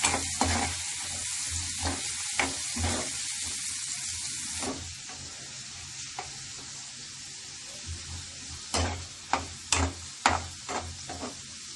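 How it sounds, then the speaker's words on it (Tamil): Two finely chopped onions sauté in hot oil with cumin seeds, giving a steady bright sizzle with a low hum beneath, broken by several sharp scrapes and clacks of a spoon stirring the pan, heavier near the end. "இப்போ நெருக்கி வச்ச 2 வெங்காயத்தை போடுறேன். கொஞ்சம் நல்லா வதக்கிடணும்."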